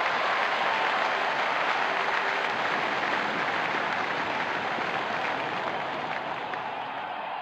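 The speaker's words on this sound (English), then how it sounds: "Crowd is going crazy" Dense, steady cheering and applause from a large cricket stadium crowd at an England one-day international, a continuous roar of clapping and voices that holds loud throughout and eases slightly near the end.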